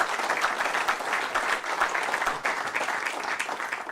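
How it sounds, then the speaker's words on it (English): Steady audience applause fills a banking forum hall, dense continuous clapping from many hands at even loudness without a break, no talk over it. "Let's give these folks another round of applause."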